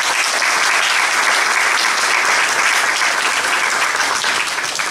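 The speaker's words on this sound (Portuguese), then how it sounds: "Um aplauso" Live radio show audience giving sustained, dense applause, a steady even wash of many hands clapping with no talk over it.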